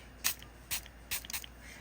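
Three quick bursts from a handheld spray bottle misting water onto polymer clay, each a short close hiss, the last one doubled, with quiet pauses between.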